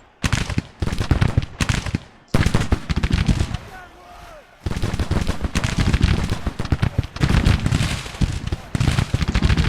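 Musket volleys and artillery fire in the Civil War strategy video game Grand Tactician, dense crackling gunfire and heavy booms coming in dense bursts separated by short lulls, loud and close throughout.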